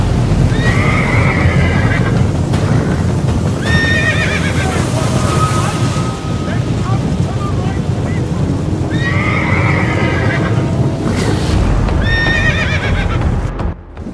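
Cavalry horses in a battle scene neigh and whinny repeatedly over a loud, constant roar of galloping hooves and rumbling commotion, dense and close throughout.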